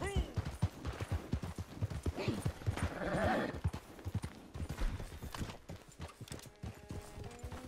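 A horse gallops in the Red Dead Redemption 2 video game, its rapid clip-clop hoofbeats steady and close, with a brief whinny partway through and a player talking over it.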